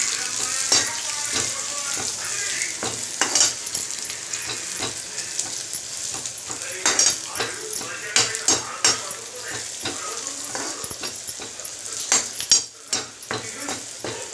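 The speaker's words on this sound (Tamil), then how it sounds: "இந்த ஸ்டேஜில் இந்த மிளகாயும் கொட்டி நல்லா வதக்கணும், வதக்கிக்கலாம்" Onions, garlic and chillies sauté in a pan for a Tamil greens dish, a steady crackling sizzle with frequent sharp spatula scrapes and stirring clatter, close and fairly loud throughout.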